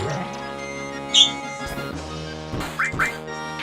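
A caged pet bird lets out a few sharp squawks, one loud cry in the middle and two shorter ones near the end, over a steady background of music.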